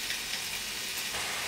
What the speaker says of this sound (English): that's the sound of a hot pan